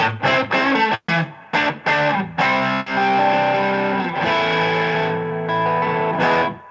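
Electric guitar with a thick, overdriven tone plays short stabbed chords and then longer ringing notes, loud and close, with no speech.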